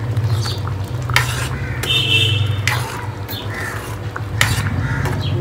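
Spiced chole of dried peas gets mixed with garam masala in a pan: a spoon scrapes and clanks against the metal in repeated strokes over a low steady sizzle, close and clear with no talking.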